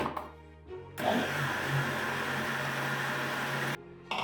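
A mixer grinder grinds about 300 grams of milk semolina (rava) for a masala dosa batter, a loud steady whirring drone that runs for about three seconds between brief quiet moments at the start and end, with no talking.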